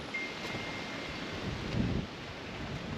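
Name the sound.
wind blowing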